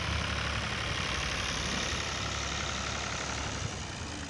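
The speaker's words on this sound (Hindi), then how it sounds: "ये डंपर, ट्रैक्टर, ट्रालियाँ रेत निकाल रहे हैं।" Dumper trucks, tractors and trolleys hauling sand from a riverbed, a continuous heavy diesel engine rumble and idle drone, steady and fairly loud without pauses.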